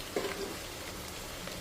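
Vegetable pieces frying in a covered pan make a faint, steady sizzling hiss, brief and quiet.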